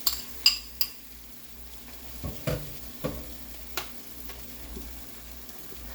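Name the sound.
egg mixture cooking and being stirred in a pan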